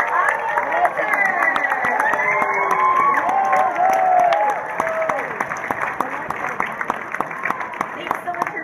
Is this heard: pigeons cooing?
no